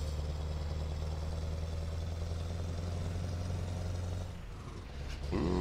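A truck in Euro Truck Simulator 2, fitted with a sound mod, idles with a steady low, droning rumble. Near the end the tone dips briefly, then returns slightly louder.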